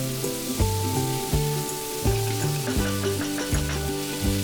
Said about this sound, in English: Then add 2 tomatoes sliced and fry this until the tomatoes are soft.